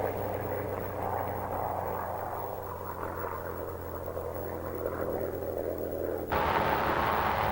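Several P-51 Mustang fighters take off, a broad droning propeller roar that swells and holds, then grows brighter and louder near the end.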